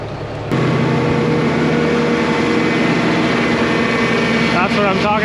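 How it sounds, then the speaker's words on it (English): A farm tractor runs close at a steady, loud drone after its PTO engages to drive a liquid manure pump on alfalfa fields, with a brief clunk as it kicks in and faint voices near the end. "Ready to start pumping, so we're just gonna turn the PTO on."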